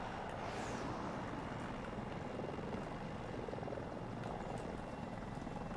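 Continuous, muffled whir of a Super Hind helicopter's rotors and engine in the video game Battlefield 2042, steady and unbroken throughout.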